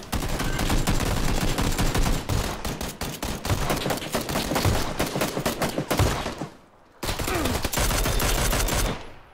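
Dense PUBG gunfire rattles almost without a break, with loud overlapping bursts of rapid shots and a brief gap before the shooting resumes.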